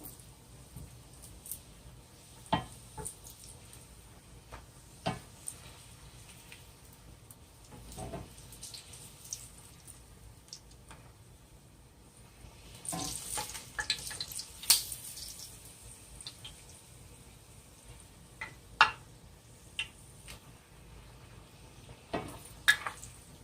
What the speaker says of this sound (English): So I'm going to go ahead and just fry them in here.